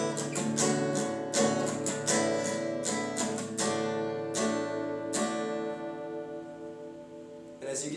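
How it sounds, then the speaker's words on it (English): Acoustic guitar strummed in a beginner's pattern, the strokes steady at first and then spreading out as the tempo slows, finishing on a sustained chord left ringing. "you're going to want to start slowing the tempo of your strumming pattern"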